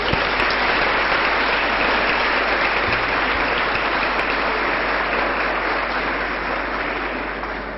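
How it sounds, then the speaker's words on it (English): Applause from an event audience fills the whole stretch, a dense and steady sound of many hands clapping together that fades a little toward the end, with no talking over it. "the instinct is for everyone to give themselves an applause"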